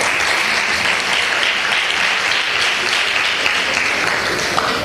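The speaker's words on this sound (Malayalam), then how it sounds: "ക്ലാപ്പ് കൊടുക്കുക." A church anniversary meeting audience applauds children from Sunday school after their performance, a continuous, even wash of clapping from a large crowd throughout.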